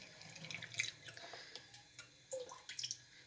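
Homemade vinegar is strained, with liquid trickling and dripping in quiet, irregular splashes and small droplet ticks scattered over a few seconds.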